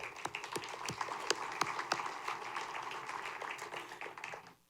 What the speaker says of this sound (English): And I appreciate the applause